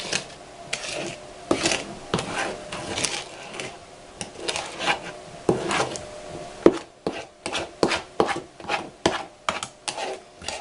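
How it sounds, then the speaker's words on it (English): A spoon stirring a sticky cocoa-powder chocolate yule mixture in a bowl, with a steady run of scraping, rubbing strokes that turn into quick regular beats toward the end, close and fairly loud with no talking. "Now make sure we're mixing all of it in, everything around the sides, get it all in."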